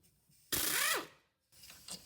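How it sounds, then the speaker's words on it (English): A 12mm socket ratchet loosening a brake caliper bolt on a rear wheel of a Toyota Venza: one short, loud burst of ratchet clicking, followed by quieter metallic handling sounds. "All you need is a 12mm socket to get the caliper off."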